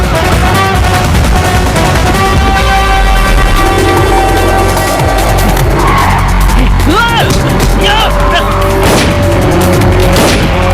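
Fast car driving with loud, repeated tire squeals and skids during a movie action chase, loud and continuous with engine roar, background music and shouting voices.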